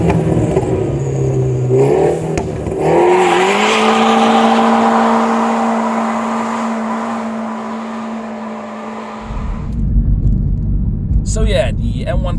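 An Astral Blue BMW M140i hatchback with an automatic gearbox and rear-wheel drive accelerates hard, its engine note climbing loudly and close before the revs fall away into a lower, rougher rumble.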